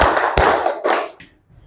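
A class in an Islamic religious education lesson does a counting clap game, with a few loud, close group claps in quick bursts that then fade away.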